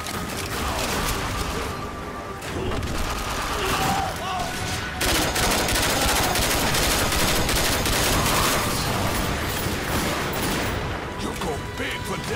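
Dense, continuous gunfire from a 4-player co-op shootout in The Darkness 2's Vendetta campaign, with overlapping rapid shots and bursts filling the scene, loud throughout with some background voices.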